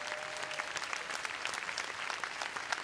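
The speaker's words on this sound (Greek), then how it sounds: "Ένα χειροκρότημα δυνατό," Theatre audience at a live comedy show, dense sustained clapping from many hands filling the room at an even level, heard at some distance.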